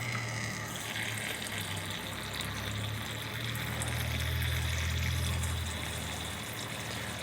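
Water runs steadily from a tap into a container, a continuous splashing trickle that swells slightly in the middle before easing off.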